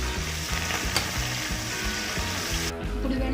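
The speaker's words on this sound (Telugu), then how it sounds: "ఉల్లిపాయలు వేగిన తర్వాత ఇందులో కరివేపాకు, అలాగే కొత్తిమీర, పుదీనా అన్నీ వేసి వేయించుకోండి." Onions, curry leaves, coriander and mint fry steadily in a hot pan, a continuous close sizzle with faint stirring scrapes throughout, no voices.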